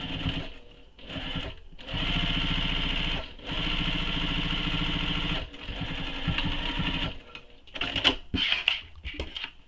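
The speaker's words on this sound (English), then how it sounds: "So I'm going to top stitch my short straight edge first" Sewing machine top stitching along the short straight edge of a fabric clutch bag, running in several steady bursts separated by brief pauses, close and fairly loud, with a few sharper clicks near the end.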